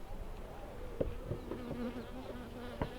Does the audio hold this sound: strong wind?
no